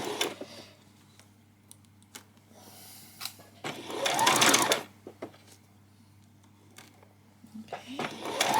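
A sewing machine stitches a ruffle on a peasant skirt in short bursts of rapid whirring, with pauses between runs and a longer, louder stretch in the middle, close by and without talk.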